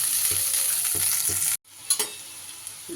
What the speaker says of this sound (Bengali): এবার এগুলোও দিয়ে আবারও ঢাকা চাপা দিয়ে মাঝারি আঁচে কিন্তু সব সবজিগুলোই ভেজে নিতে হবে।